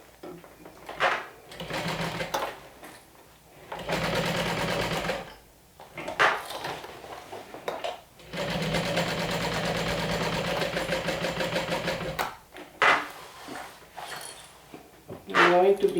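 A sewing machine top-stitches a clear vinyl beach bag in several sustained runs of steady motor whirring, a few seconds each, with pauses and brief handling noises between them.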